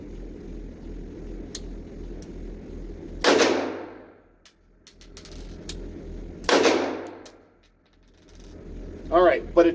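Pistol fired through a magazine at an indoor gun club range: two sharp, loud shots a few seconds apart, each ringing out in a decaying echo, with a faint hum between and a brief clatter at the end.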